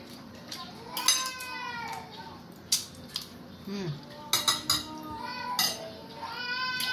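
Children's voices and playful shrieks drift in from a distance over clinking cutlery and dishes, with a person speaking nearby.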